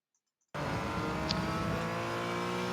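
A race car engine on a track pulls hard through the gears, starting abruptly and droning loud and steady close by as it accelerates, with no voices.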